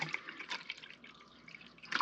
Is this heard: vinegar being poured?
yes